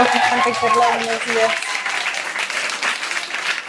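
Talk-show studio audience applause with a dense wash of clapping, briefly overlapped by a voice at the start, then continuing alone until the end.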